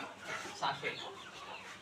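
A free-range village rooster gives a brief, faint cluck or two amid low background murmur.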